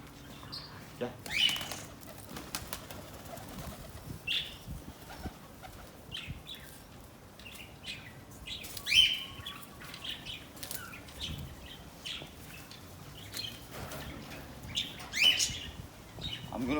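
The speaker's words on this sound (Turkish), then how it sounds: "güvercinlerini bir içeri alayım" Pigeons in a loft give scattered bursts of wing flapping and soft chirps and coos, fairly faint and intermittent over low background murmur.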